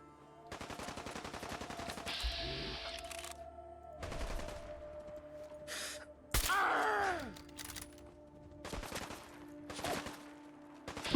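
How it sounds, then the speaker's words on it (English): Enemy gunfire in Fallout 4 comes as sharp bursts and single shots spread over several seconds, some close and loud, alongside game effects and a brief strained grunt, with no talking. "Who is shooting me?"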